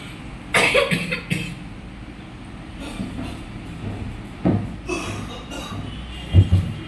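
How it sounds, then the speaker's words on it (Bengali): A person coughs in short, separate bursts over steady low background noise, with a cluster of coughs near the start and single coughs later on. There is no clear talk. "একজন ওই যে কাশতেছে অনবরত কাশতেছে"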